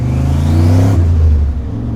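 A turbocharged C5 Corvette accelerates under boost, its engine droning loud and close with a rising whir from the turbo that cuts off partway through, leaving the lower engine tone.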